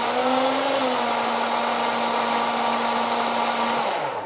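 An electric blender runs for a few seconds, mixing a sugar-free kale shake. The motor hum is loud and steady and close by. The pitch settles early on and drops as the machine winds down at the end.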